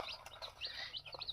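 Newly hatched turkey chicks peeping in quick high overlapping chirps, soft and close, a busy cluster of tiny calls with no talk.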